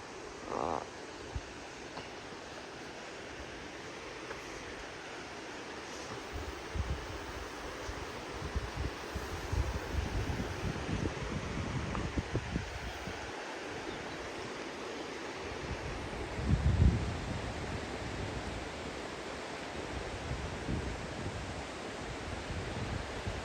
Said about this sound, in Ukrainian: Он вже чути водоспад.